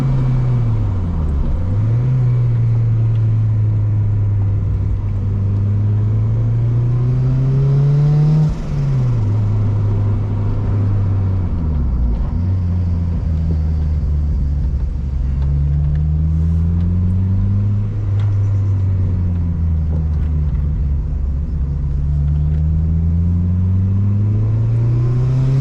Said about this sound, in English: You can hear the spool of the turbo.